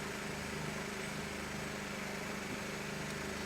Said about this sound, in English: If you can hear a fan going in the background